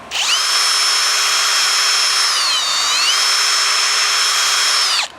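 A Kobalt 24-volt cordless drill runs steadily for about five seconds, its close, loud whine dipping in pitch briefly midway before recovering and cutting off.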